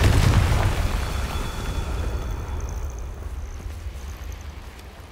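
A Confringo fire spell explodes in Hogwarts Legacy: one heavy, close boom at the start that fades into a long rumbling tail.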